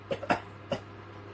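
A few soft, short coughs close by, three quick bursts with brief pauses between, then quiet.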